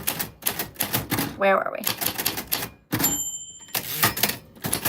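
Typewriter keys clatter in quick bursts of close, crisp strikes, broken by a bell-like ding and a carriage sweep, while someone talks over and between them.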